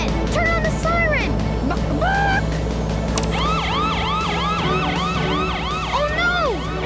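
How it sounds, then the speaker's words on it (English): A cartoon vehicle siren in an animated children's show wails, rising and falling repeatedly, loud and close, over a steady low engine hum. "Turn on the siren!"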